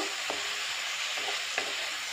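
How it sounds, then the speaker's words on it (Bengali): Prawns frying in hot oil with salt and turmeric in a kadai, giving a steady close sizzle with a few sharp spatula scrapes and taps, no voices. "ওইদিকে তো চিংড়ি মাছটা ভাজা হচ্ছে"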